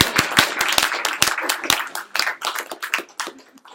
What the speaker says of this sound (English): Should we clap again?